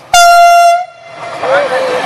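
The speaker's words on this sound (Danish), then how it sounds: "Hiv i hornet, mand. Hiv i hornet!" A train horn blasts loud and close with a steady harmonic tone for about half a second at a 2012 company picnic outing, then fades into crowd chatter and voices.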